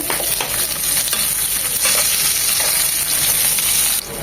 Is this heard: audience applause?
no